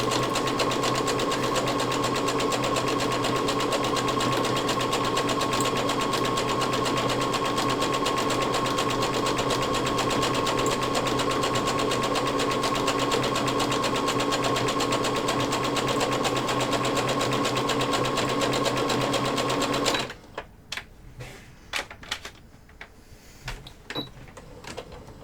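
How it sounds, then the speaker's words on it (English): A sewing machine running continuously at a steady, fast mechanical whir with rapid stitching clatter, close and loud, then cutting off abruptly near the end, leaving a few faint clicks and handling noises. "Bad sewing machine."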